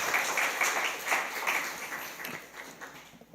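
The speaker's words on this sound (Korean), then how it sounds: "하나님께 감사의 박수 올려드리겠습니다" A church congregation at a Korean Sunday service applauds together, a burst of clapping that is strongest at first and then fades away gradually.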